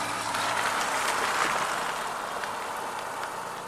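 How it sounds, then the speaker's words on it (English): Steady rain falls as a dense, even hiss with scattered drops pattering on a surface, continuous and fairly close, with no one talking. "it's starting to rain even harder."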